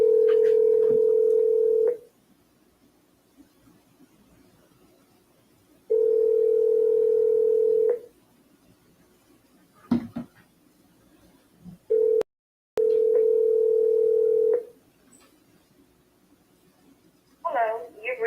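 A house landline's steady telephone tone repeats in long loud bursts of about two seconds separated by silences, with a short blip in the middle and faint rustling near the end; no one speaks.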